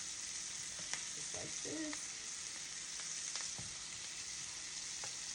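Pork chops sizzle steadily in a pan of butter and thyme, a dense crackling hiss with brief spoon-basting clatters near the middle; a voice speaks a few words briefly.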